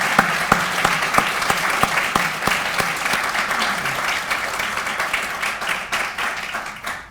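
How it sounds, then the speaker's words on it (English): Audience applause rings out at a press association hall of fame induction ceremony in a hall, sustained clapping from a sizeable crowd that slowly fades toward the end. "if you all could join me in giving Dawn a well-deserved round of applause"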